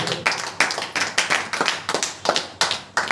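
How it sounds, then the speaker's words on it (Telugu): Church congregation clapping hands loudly in unison, a quick steady run of sharp, close claps. "గట్టిగా చప్పట్లు కొట్టండి"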